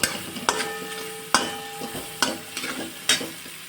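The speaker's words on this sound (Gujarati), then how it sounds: "હવે ડુંગળીને હું ગોલ્ડન બ્રાઉન સુધી હલાવી લઈશ" Onions frying in a pan for Hakka noodles, stirred in regular spoon scrapes about every second over a soft, steady sizzle.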